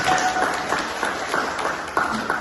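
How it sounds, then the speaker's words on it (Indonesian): Scattered applause from a small class group after a presentation, a patter of hand claps at moderate distance with a few voices murmuring underneath. "beri tepuk tangan"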